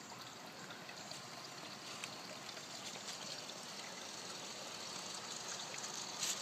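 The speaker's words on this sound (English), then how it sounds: "Coming up onto tunnel, the water feature" Water feature on a model railroad layout trickling continuously, a soft steady splashing hiss, quiet and close, with no voices.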